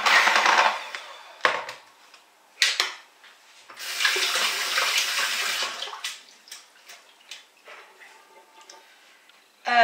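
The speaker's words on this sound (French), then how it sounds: "On doit laver toujours le passoire, temos que lavar sempre o coador para poder coar bem." Running tap water pours over a kitchen strainer as it is rinsed while making orange juice pudding, coming in several bursts of splashing flow broken by short pauses and small knocks of the utensil, fairly close.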